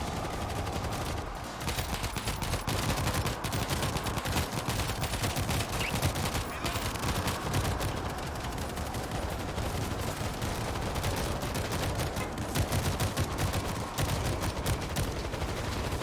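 Dense, continuous automatic gunfire rattles through a zombie shooter game, rapid overlapping bursts filling the whole stretch at a loud, steady level with no talk over it.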